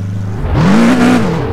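In the Test Drive Unlimited 2 racing game, a car engine revs at launch, its tone rising steadily then holding high and loud before easing slightly.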